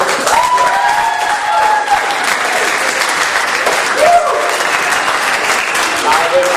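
An audience at a trivia night claps loudly and steadily for the organizers, a dense roar of hands that holds throughout, with cheering voices riding over the clapping.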